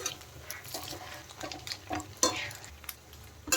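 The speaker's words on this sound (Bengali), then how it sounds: "এইভাবে কিন্তু উল্টে পাল্টে সব বড়া কটাকে আমি ভেজে নেব" Semolina and potato fritters sizzle in oil while they are turned, with soft crackling under a series of spatula scrapes and clinks against the pan at an uneven rhythm, close and moderately quiet.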